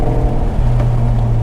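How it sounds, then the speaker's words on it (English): Car engine briefly revving during a fast rev-match downshift, a loud, close, steady engine drone with a slight rise in pitch partway through. "let's go ahead and do the fastest rev match you can do"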